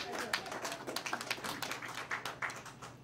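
Scattered, uneven hand claps from one or a few people in a talk-show studio, faint and irregular, like a brief attempt at applause.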